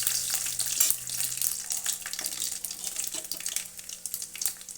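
Cumin seeds and garlic crackling in hot oil in a pan, a dense steady sizzle with scattered sharp pops and a faint stir or two, close and continuous throughout.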